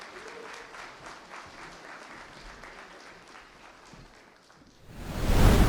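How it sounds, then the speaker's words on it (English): An audience at an arts and culture festival claps for a performer, with a steady patter of applause that swells loudly near the end. "please welcome to the stage, Isimeme. Yes, give a round of applause."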